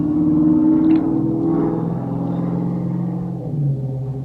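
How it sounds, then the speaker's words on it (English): A Lamborghini drives past on a residential street outside, its loud engine rumble sustained and steady throughout, swelling slightly and then easing as it goes by, with no talking. "That was a Lamborghini going across my street."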